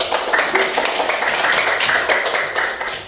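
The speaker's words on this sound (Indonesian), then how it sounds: "Tepuk tangan untuk kelompok 1 sudah berhasil membuktikan" Classroom applause for a fourth-grade student group, a dense burst of many hands clapping steadily and loudly for about three seconds with no talk over it.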